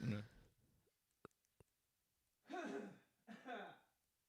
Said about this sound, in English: Hold on, I need to clear my throat.